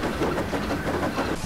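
A steam engine named Gordon approaches along a main line, a steady rumbling chug and rolling rail clatter at moderate volume, heard alone without talk.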